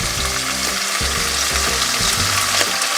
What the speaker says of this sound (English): So we'll let that kind of sizzle,